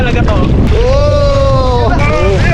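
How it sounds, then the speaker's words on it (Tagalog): Strong wind buffets a small fishing boat out at sea in the dark while it takes on water, a steady roar filling the whole stretch, with voices calling out over it. "Malakas na yung hangin."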